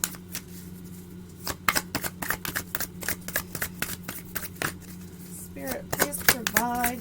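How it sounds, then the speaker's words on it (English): Tarot cards being shuffled by hand in a series of crisp riffles and taps against a low steady hum, with a voice starting to talk near the end. "Shuffle these cards."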